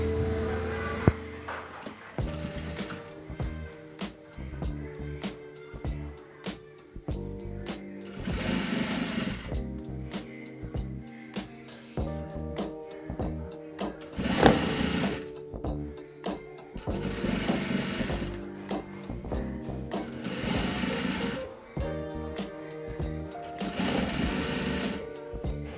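Sewing machine stitching a fabric doormat, running in repeated bursts of steady rapid clatter separated by short pauses, close and alone without talk.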